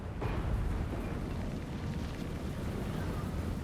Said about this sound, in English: Now that the cannons are firing.